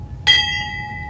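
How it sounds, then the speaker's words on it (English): A single memorial bell strikes once at a ceremony honouring fallen service members, a clear metallic ring with a bright attack and a long sustained shimmering tone that slowly fades over quiet background. "Silence fell through the crowd as a bell rang 49 times during a ceremony in honor of fallen service members"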